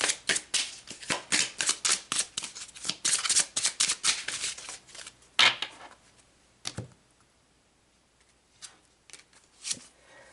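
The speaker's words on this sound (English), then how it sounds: "let's pull some cards now" Tarot cards shuffled by hand: a quick run of rapid papery flicks and riffles for several seconds, then a few sparse, softer taps and slides of cards near the microphone.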